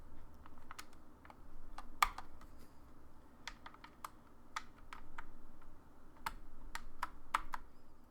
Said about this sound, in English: you can go ahead and reinstall all your keycaps at this point now